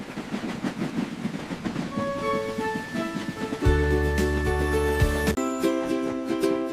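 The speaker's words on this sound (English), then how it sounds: "All aboard the cookie train! Choo, choo, choo!" Cartoon train rolling along its rails in a children's animated show, a busy rhythmic rumble with bright tonal toots and whistle-like chords building midway, loud and continuous with no talking.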